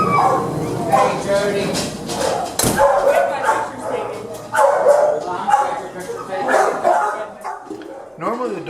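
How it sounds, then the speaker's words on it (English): Dogs in a kennel bark, yip and whimper excitedly and loudly in a near, continuous chorus, with a person talking briefly over the noise. "when the walkers arrive, the dogs get very excited and very loud"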